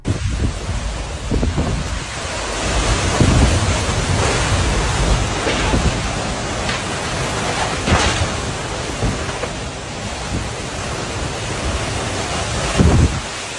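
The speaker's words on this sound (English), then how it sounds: "a super intense tornado went past this guy's house in Illinois." Loud roaring tornado wind blasts against the microphone in a constant rush, with heavier gusts surging every few seconds, in Illinois.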